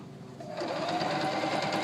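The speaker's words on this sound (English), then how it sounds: "It'll sew up and over 6 layers." A Singer sewing machine stitches through six folded layers of denim. A quiet moment comes first, then a steady, close mechanical whir with a fast needle rhythm starts up and keeps running, with no talking.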